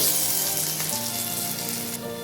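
Cumin powder and spices fry on a low flame for a Bengali lau chingri, giving a loud, close, continuous sizzle with a faint tonal hum underneath and no speech.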